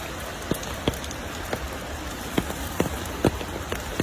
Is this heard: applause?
no